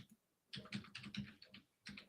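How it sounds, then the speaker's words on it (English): Fingers typing on a computer keyboard, quick bursts of close, faint clicking separated by short pauses. "Just typing away there."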